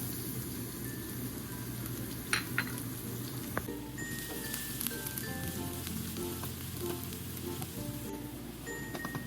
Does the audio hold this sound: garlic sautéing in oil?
yes